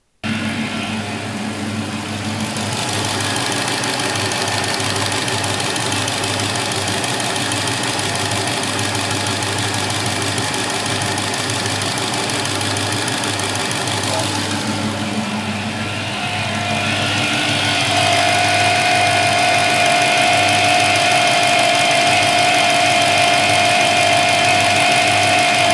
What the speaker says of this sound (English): When those bearings go out in these superchargers, it will have a grinding rattle as if metallic beads are being shaken inside the supercharger